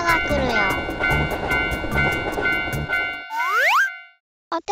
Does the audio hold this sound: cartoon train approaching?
yes